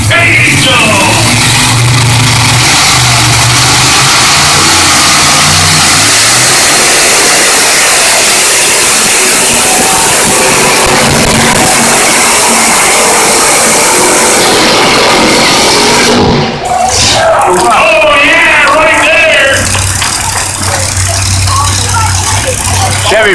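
Pulling-tractor engine roars loud and sustained at the Troy Fair tractor pull, heavy broadband power with a brief dip near the middle before building again, announcer talk over it.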